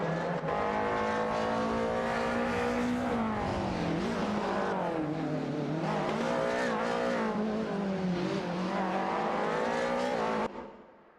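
Race cars in a racing video game, including a Mercedes C200 and a Honda Accord, engines droning loud and close with rising and falling revs as they shift, the roar cutting off abruptly at the end.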